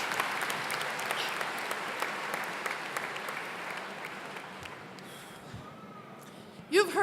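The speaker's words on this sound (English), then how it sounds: "Another round of applause," Audience at a 2019 community education center graduation ceremony applauding student speakers, a steady dense clapping that fades slightly toward the end, with a brief louder burst at the close.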